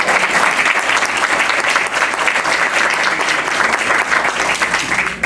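A crowd at a book presentation gives a speaker loud, sustained applause, with dense clapping holding strong and steady throughout before a brief dip near the end.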